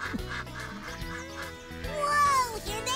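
Ducks quacking on a farm in a children's program, with repeated nasal calls over a busy, music-like background and some higher chirping later on.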